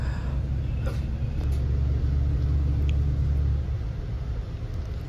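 Deep, steady engine rumble fills the interior of an Indorent WITM-111 bus travelling from Malang to Jakarta, heard from the rearmost seat, loud and droning before easing slightly near the end, with no talking.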